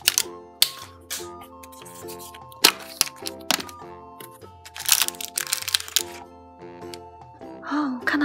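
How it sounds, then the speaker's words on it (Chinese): Packaging of a Peppa Pig surprise egg being torn open, with close crinkling, plastic clicks and sharp snaps in irregular bursts against a background of soft tones, and a voice speaking between the sounds. "拆开包装"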